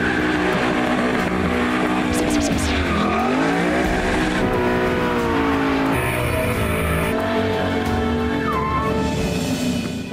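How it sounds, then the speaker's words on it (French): A Ford Mustang Boss 302 does a big burnout, its V8 roaring loudly and steadily while the tires squeal and smoke, the engine pitch swooping down and back up partway through, with no talking. "On fait fumer les pneus, c'est clair."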